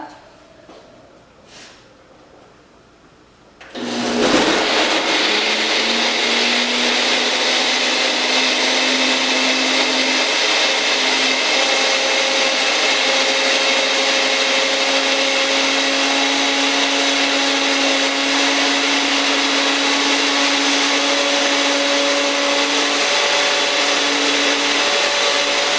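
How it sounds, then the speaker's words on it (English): A blender whirs up an almond milk mixture, starting abruptly after a few quiet seconds and then running loud and steady with a constant motor whine to the end. "We're just gonna blend that up."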